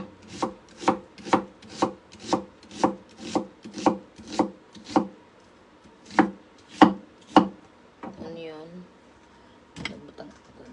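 Onion chopped with a knife on a board for basil meatballs: a close, steady run of about fifteen crisp chops, then a short scraping rub and a final couple of cuts.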